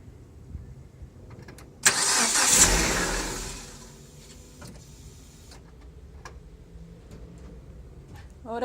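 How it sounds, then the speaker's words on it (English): A Proton S16 with a starting problem is cranked at the ignition: a loud, close burst of starter churning lasts about a second, then fades into a low idle-like murmur with faint ticks. "I'll try and give a kick again, ignition."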